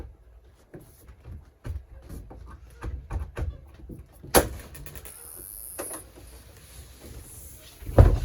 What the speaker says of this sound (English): take this couch, pull on it, folds down, then it'll allow you to unlock this little travel latch here for the bed